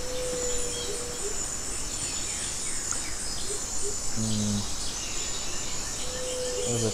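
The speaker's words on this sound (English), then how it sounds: "I just hear birds tweeting obnoxiously" Birdsong and chirping fill an aviary in the dinosaur survival game The Isle, with a steady insect-like high chirr throughout and a few clearer whistled calls rising briefly above it.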